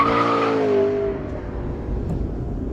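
A McLaren 650S Spider brakes hard from speed, its engine note falling away in a steady descending drone as the car slows, heard close from inside.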